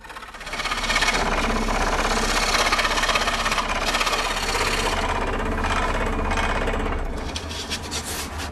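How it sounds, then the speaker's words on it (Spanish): A fine saw cuts through a thin wooden board for an octavilla, a small Spanish plucked string instrument, in a workshop, giving a steady, loud, continuous rasping stroke that runs unbroken for several seconds before tapering off. "hay que cortar la madera con una sierra fina, pues en caso contrario, la tabla se podría partir."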